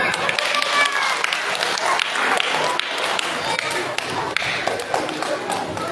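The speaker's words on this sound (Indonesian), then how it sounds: "Iya, tepuk tangan." Children at a school Christmas program clap together, brisk and uneven with scattered taps and thumps, while voices chatter and talk over the noise.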